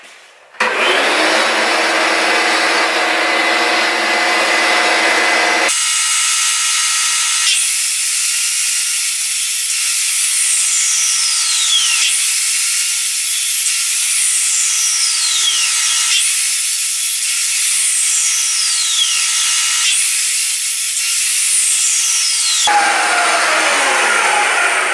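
Power saw making rough first cuts through timber for a picture frame, a loud continuous whine with repeated pitch sweeps as each cut bites and finishes, several cuts in sequence, close and with no talking.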